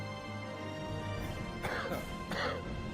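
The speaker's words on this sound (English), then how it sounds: "Man, he's coughing over here." A character in The Elder Scrolls III: Morrowind coughs a couple of times in a bar in Arrille's, two short rough bursts close by over steady low music and room ambience.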